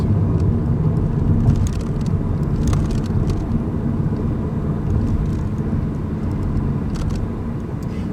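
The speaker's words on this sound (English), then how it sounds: "that engine just purrs away in the background" A steady, low rumbling hum from an Audi A1 S-line engine idles in the background, with faint higher whirring above it, even and continuous throughout, with no one talking.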